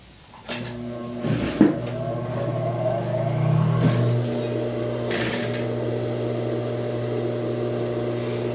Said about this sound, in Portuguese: Vou virar toda essa extensão, esta também, com a margem de costura que eu deixei, vou costurar toda a volta.